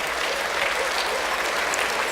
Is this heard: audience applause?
yes